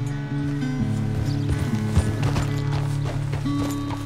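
Horse hooves clip-clopping at a steady trot in the Red Dead Redemption 2 game, a rhythmic, fairly close series of hoofbeats over a continuous low game soundscape, with no talking.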